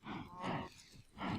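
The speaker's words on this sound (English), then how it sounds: "So I've gathered a good 32 stack of cows in there." Cows moo in the Minecraft video game, three drawn-out lowing calls in quick succession, close and clear with no talk over them.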